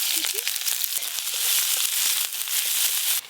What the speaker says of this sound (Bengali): পেঁয়াজগুলো হালকা করে ভেজে নিয়েছি